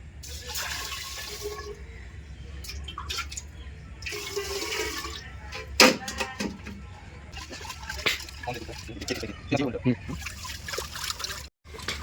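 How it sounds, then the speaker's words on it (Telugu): Rice is washed in water by hand, with bursts of swishing and sloshing, trickles and splashes close by, then a brief silence at the very end. "ఇదే విధంగా టూ టైమ్స్ అది కడుక్కుంటామండి మేము వాటర్ వేసుకుని"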